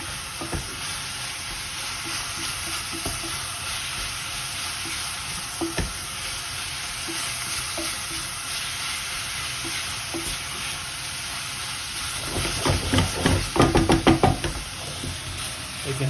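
Onions and minced meat for Greek spaghetti sauce fry in a pan with a low steady sizzle, broken by occasional utensil knocks and a louder burst of stirring and scraping near the end.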